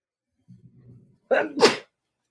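A single loud sneeze, preceded by a brief quiet intake of breath, close to the microphone.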